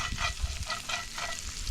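Sausages, onions and peppers frying in a pan: close, dense sizzling with bursts of scraping as the pieces are turned and flipped.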